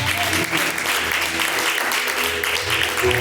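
A church congregation claps in praise during a live service, steady dense applause filling the room throughout, with a voice faintly speaking over it.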